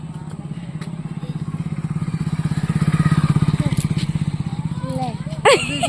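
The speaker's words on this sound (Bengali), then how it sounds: "গাড়ি আসছে" A motorcycle engine putters steadily nearby, its rhythmic low thrum swelling as it draws closer on a rainy day, with a sharp knock near the end and bits of voices in the background.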